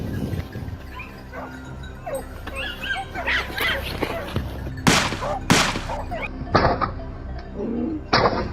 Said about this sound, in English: Suddenly, our dogs barked sharply, signal confirmed.